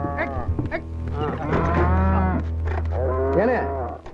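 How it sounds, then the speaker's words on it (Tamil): Cattle being loaded onto a lorry moo loudly and close, several long drawn-out calls overlapping one another, with no speech. "ஏனே லாரியில மாடுகள் எங்கே ஏத்திட்டு போறீங்க?"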